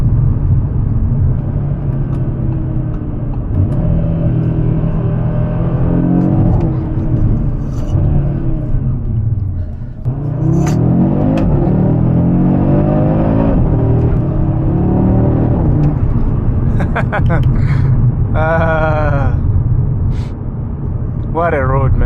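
An Audi RS3 accelerates hard along a back road in Magoebaskloof, its engine pitch climbing steadily through the gears over a constant loud rumble and road noise, heard close from inside the car.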